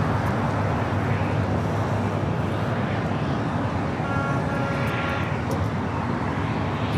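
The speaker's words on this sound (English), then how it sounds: "777 at 300 yard, China Southern, marching over here to the south side" A China Southern Boeing 777 freighter taxis at Los Angeles International Airport, its engines a steady, fairly loud whine and rumble holding evenly throughout.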